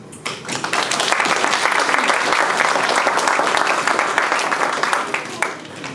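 Dense, steady applause from an audience at a youth entrepreneurship competition, loud and sustained for several seconds before tapering off near the end, with no talking over it.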